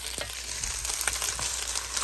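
Chicken pieces stir-fry in a Dutch oven, a steady sizzle broken by several sharp scraping and clattering stirs of a utensil against the pot, fairly close, with no talk.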